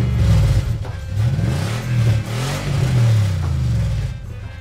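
A vehicle's engine arrives and revs with a steady, rising and falling drone, loud and fairly close, mixed with some rattle and clatter and no speech on top.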